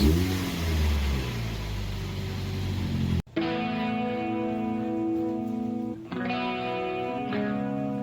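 A Chevrolet Cobalt SS with the LSJ engine revs hard, its mid-pitched engine note rising and falling through gear changes, loud and close with brief dips between pulls.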